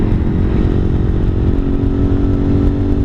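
Lifan KPR 200 motorcycle riding along, its engine droning steadily and loudly close by with a constant mid-range rumble and wind buffeting throughout, no voices.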